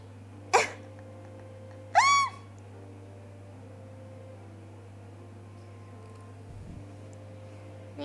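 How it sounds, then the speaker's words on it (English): A woman stifles a sneeze into two short, sharp nasal bursts about a second and a half apart, close by, over a constant low electrical hum in a kitchen. "She needs to sneeze."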